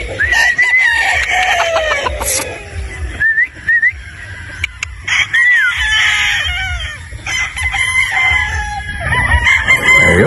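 A broodstag rooster, a three-quarter Sweater and one-quarter Boston gamefowl cross, crows several times nearby among other birds' calls and whistling, with a busy outdoor farm background throughout.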